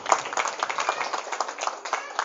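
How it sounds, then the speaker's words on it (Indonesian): Audience applause for parents at a parenting event at an Islamic Quran boarding school, steady, dense clapping throughout with some voices mixed in. "Tepuk tangan buat ayah bunda hari ini."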